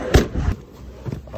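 A car door is slammed hard with one sharp, loud thud near the start, followed by a softer knock and low rustling outdoors.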